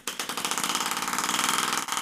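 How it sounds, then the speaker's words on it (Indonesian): A small model-aircraft compressed air engine, pressure regulated, runs at high speed with a rapid, regular pulsing chug, loud and close, briefly faltering near the end before picking back up. "Tekanannya diatur, tapi menyebabkan mesin berdenyut."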